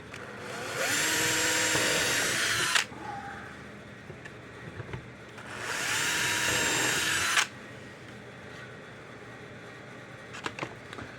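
A power drill bores pilot holes in a Blitzer Hot Spark fence charger in two loud whining bursts of about two seconds each, separated by quieter pauses with small clicks and handling noises.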